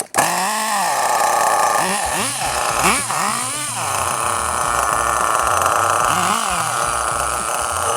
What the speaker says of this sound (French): Ah oui, petit moteur à tirette.